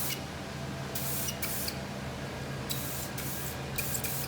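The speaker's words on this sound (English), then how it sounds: "you can spray on 2 or 3 coats of lacquer, drying each coat of lacquer as you're going" Lacquer is sprayed onto a leather car dashboard during a colour change, in several short hissing bursts with pauses between them.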